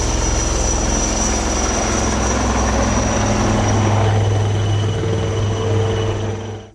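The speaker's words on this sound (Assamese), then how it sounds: "অত্যাধুনিক হেলিকপ্টাৰ।" A modern military helicopter flying over the Moran national highway emergency landing strip at an air show, a loud steady rotor and engine drone that holds throughout and then cuts off abruptly.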